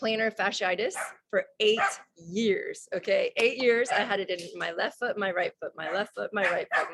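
A pet dog barking and yipping excitedly indoors, brief bursts mixed in under steady, continuous talking from a person nearby.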